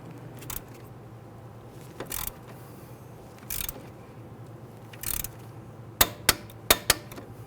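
A torque wrench works a clevis fork bolt on the front suspension of a 2008-2013 Infiniti G37, giving a few short ratcheting bursts spaced apart, then four sharp metallic clicks in quick succession near the end, close and clear.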